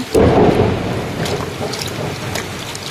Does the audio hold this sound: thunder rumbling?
yes